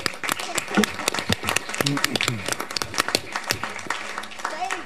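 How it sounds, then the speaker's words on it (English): A crowd at a city council meeting claps in a dense, crackling round of applause that runs throughout, with voices talking and calling out over it. "Let's give them a round of applause."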